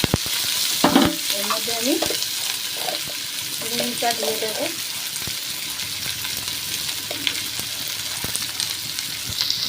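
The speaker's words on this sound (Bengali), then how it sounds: "দিয়ে আমি আবার এটা ভালো করে ভেজে নেব" Vetkol stems frying in a pan, a steady sizzle with intermittent scraping stirs, while someone talks over the cooking.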